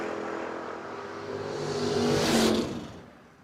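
A Pontiac door car at a drag strip launches with a loud rising engine roar that swells to a peak and then fades quickly as it pulls away.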